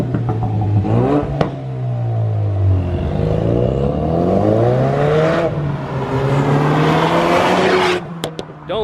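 Straight-piped Ford Mustang EcoBoost driving along a road, its engine loud and close, rising and falling through gear changes with a raspy pitch sweep, then dropping off sharply near the end.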